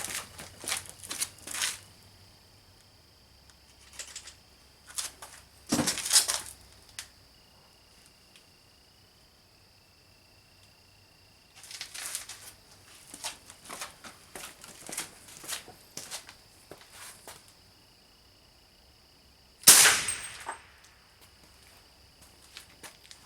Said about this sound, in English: We just shot about 6 rounds through it.